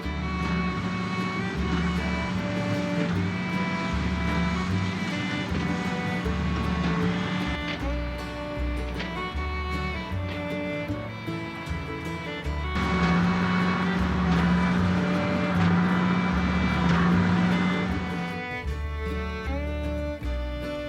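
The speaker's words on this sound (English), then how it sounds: "We've got the tractor and we've attached the baler to the back." An old tractor pulls a hay baler on a South Australian wheat farm, its engine droning steadily and loudly throughout, with a rhythmic low thumping from the baler repeating underneath.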